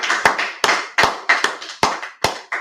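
A few people clap their hands in a quick, slightly uneven burst, about a dozen sharp claps close by with no talking.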